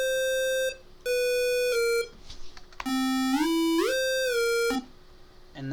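Bright square-wave chiptune retro lead notes from FL Studio play in short held bursts. A later run of notes uses quick short pitch slides up and down, with faint hum in the gaps.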